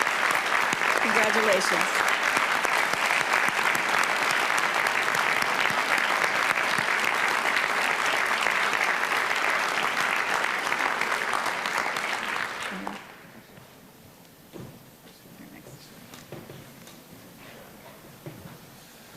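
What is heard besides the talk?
audience applause at convocation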